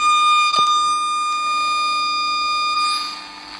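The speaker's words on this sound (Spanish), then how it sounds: "Si me voy de frecuencia, supongo que desaparecerá el pitido." Steady electronic tone from an RF signal generator, a bright sustained pitch with a couple of brief clicks partway through, fading slightly near the end, with no voices.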